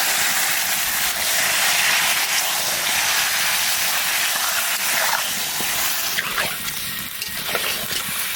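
Chicken pieces going into a pan of frying onion and tomato purée for a chicken curry, giving a loud, steady steamy hiss and sizzle that runs throughout with no talking.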